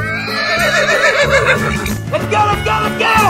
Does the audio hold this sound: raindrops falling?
no